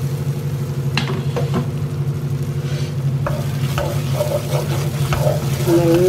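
Vegetables sauté in hot oil in a pan for an office lunchbox dish, a steady low sizzle with occasional scraping stirs of a spoon, close and uninterrupted by talk.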